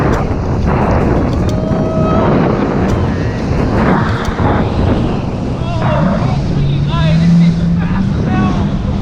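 Jet ski engine droning steadily on open water, loud and close with wind buffeting, while people talk and shout over it.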